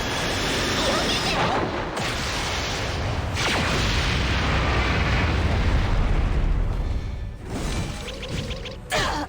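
Explosions in the game Epic Seven, dense crashing bursts and roaring booms over a busy battle soundscape, with sharp breaks in the din between blasts.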